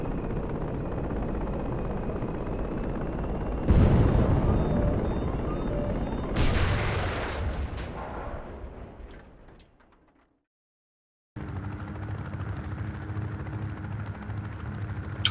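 Helicopter in the video game Project Reality losing control and crashing: rotor drone, a sudden loud impact, a harsh crunching burst, fading to silence, then a different steady engine hum resumes.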